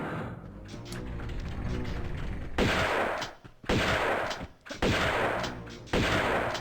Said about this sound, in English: Best shotgun sound ever!